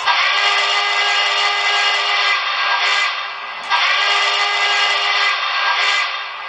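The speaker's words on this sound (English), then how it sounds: "Here's the whistle." A Broadway Limited Imports model of the Norfolk & Western 2-6-6-4 Class A steam locomotive sounds its whistle, a bright, reedy chime blown in two long sustained blasts with a short break, played loud and close.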